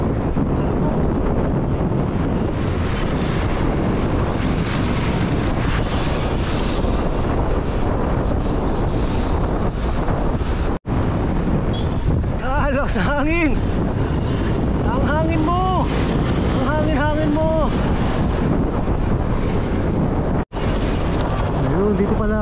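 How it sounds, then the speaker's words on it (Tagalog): Strong wind on a national road roars into the microphone of a moving bicycle with steady, loud buffeting. A voice speaks intermittently over the gusts, and two brief dropouts break the noise. "Lakas naman ng hangin dito sa National Road."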